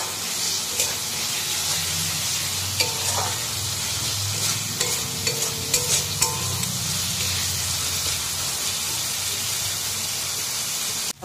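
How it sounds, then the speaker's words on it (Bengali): Spices sizzling in hot oil for a lote fish curry, a steady hiss that runs throughout, with occasional stirring taps and scrapes close by and no speech. "এখন এই মশলাগুলো ভালো করে কষিয়ে যখন তেল থাকবে তখন ওই নুন হলুদ মাখানো লোটে মাছগুলো এর মধ্যে দিয়ে দেবো।"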